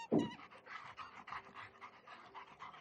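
A dog in the rescue game Animal Rescuer pants in quick, soft, rhythmic breaths after a brief louder sound at the start, fairly close and with no talk.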